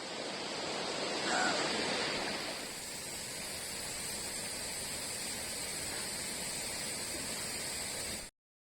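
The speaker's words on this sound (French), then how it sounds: "Pour les pauses fraîcheur, il n'y a rien de mieux qu'une cascade." A mountain waterfall in the Vanoise gives a steady, dense roar of rushing water close by, unbroken and loud throughout before cutting off abruptly.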